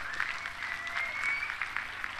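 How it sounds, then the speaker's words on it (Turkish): A crowd at a municipal event in Ereğli applauds to welcome Palestine's ambassador to Ankara, Nebil Faraj, with a dense, steady clapping that holds for the whole moment. "Kendilerine güçlü bir alkış istiyorum."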